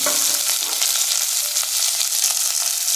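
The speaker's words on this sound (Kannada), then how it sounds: "ನಾನು ಈಗ ಈರುಳ್ಳಿ, ಕರ್ಬೇವಿನ ಸೊಪ್ಪು, 1-2 ಬೆಳ್ಳುಳ್ಳಿ ಹೆಸರು, ಒಣಮೆಣಸಿನ್ಕಾಯಿ ಈ ಥರ ಹಾಕಿ ಇದನ್ನು ಒಗ್ಗರಣೆಗೆ ಹಾಕ್ಕೊಳ್ತಾ ಇದ್ದೀನಿ." Onion, curry leaves, garlic and dry red chilli hit hot oil for a tempering for idkidbele saaru, giving a steady, close, continuous sizzle and crackle with faint stirring throughout and no talking.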